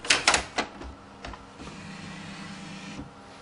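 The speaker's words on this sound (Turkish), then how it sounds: "Cihazınız tam olarak açıldıktan sonra yazıcınızın kapağını kaldırıyorsunuz." An inkjet printer's cover lifted open while fitting a continuous ink cartridge system: a few sharp plastic clicks and clacks up close at the start, then a quieter hum with a faint knock near the end.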